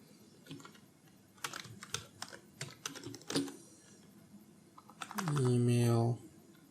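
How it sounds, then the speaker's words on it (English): An email address being typed on a computer keyboard in irregular bursts of close, crisp key clicks, ending with a brief louder tonal sweep near the finish. "let's type the email out"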